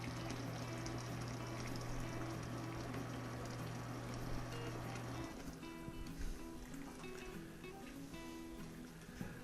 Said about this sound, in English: I'm going to put just a little bit more water in.